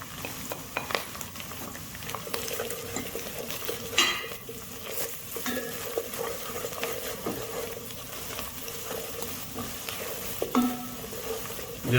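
Crushed cumin, turmeric, black pepper, salt, coriander, red chili and clove powder are stirred into a sizzling fish curry, with a spoon scraping and clinking against the pan over a steady frying hiss.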